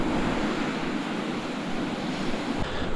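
Waves roll onto a cold, grey, empty beach, a continuous close surf wash mixed with wind buffeting the microphone, loud and steady with no voices.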